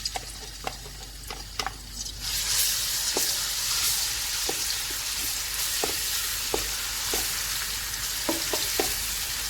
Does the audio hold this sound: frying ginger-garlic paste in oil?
yes